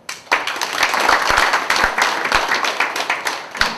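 A room full of people at a labor forum in Daegu, South Korea, applauds, steady clapping with a few sharp individual claps standing out, building and then tapering off.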